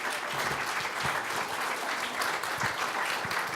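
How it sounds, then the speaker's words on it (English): Steady crowd applause at a university business competition fills the whole stretch, a dense even patter of many hands clapping with no break. "We're going to have one more round of applause"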